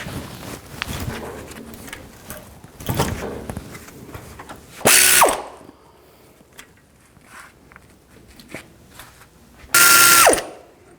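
A hand ratchet with an 18mm socket works brake caliper bolts loose on a GMC Sierra 3500HD, with scattered close clicks and two loud, dense bursts of rapid pawl ratcheting about five seconds apart.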